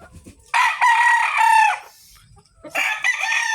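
A white rooster crows loudly twice, close by, with a brief pause between the long strained calls.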